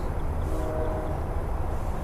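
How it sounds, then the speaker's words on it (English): A moving train rumbles along in a low, steady continuous drone, with faint tonal whine above the rolling noise and no talk. "the train is moving"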